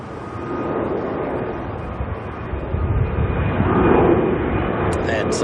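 Air New Zealand flight NZ998 taking off from Auckland Airport bound for the Pacific: a steady, broad jet roar that swells gradually and stays loud, heard from a distance at the airfield.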